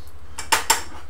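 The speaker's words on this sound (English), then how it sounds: "Stir that up just a little bit to give her a flavor" A utensil stirring garlic parmesan shrimp scampi with chili and butter in a pan, giving a soft scrape followed by two distinct metallic clinks of spoon against pan, close and alone.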